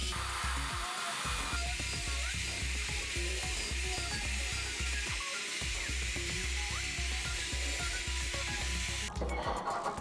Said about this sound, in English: use the column drill to drill holes